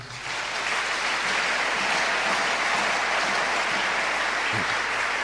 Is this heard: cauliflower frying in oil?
no